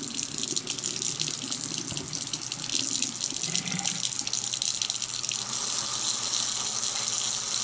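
Water runs steadily from a tap into a laboratory filtration setup during an indigo dye experiment, a constant close hiss and gush with slight shifts in flow.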